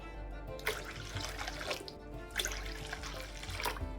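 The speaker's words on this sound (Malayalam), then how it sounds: "ഇനി അതിലേക്ക് നമുക്കൊരു മൂന്ന് കപ്പ് വെള്ളം കൂടെ ഒഴിച്ചു കൊടുക്കാം" Water pouring into an Onam ada pradhaman mix, three cups added in a steady splashing stream with brief louder gushes, close and alone.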